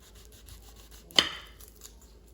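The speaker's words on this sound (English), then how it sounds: "Now I'm going to cut a potato in half and try it." A single crisp crunch as a knife cuts through the crispy skin of an air-fried baked potato, close and fairly quiet, in an otherwise still kitchen.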